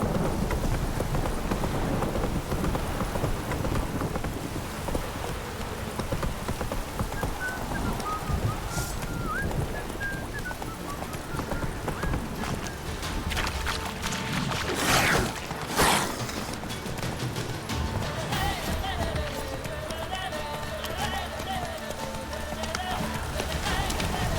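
Rhythmic hoofbeats clatter steadily at a gallop in the video game The Witcher, in a downpour, amid a busy, loud mix of game sounds, with a few sharp bursts and occasional voices speaking.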